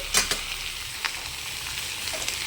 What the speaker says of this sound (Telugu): ఇవి కూడా వేసి చక్కగా వేయించుకోవాలి మనం.